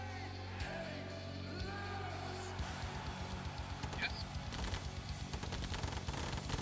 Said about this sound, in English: Start shooting stuff, guys.